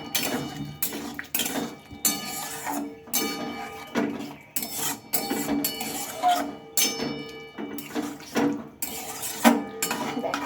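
Homemade potato-and-flour pasta stirred in a pan, with repeated close clatters of a utensil against metal coming in irregular bursts and short pauses, no voices.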